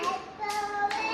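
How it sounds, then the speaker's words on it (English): Two sharp hand claps land about half a second apart over a bright children's song, close and crisp against the music. "claps your hand."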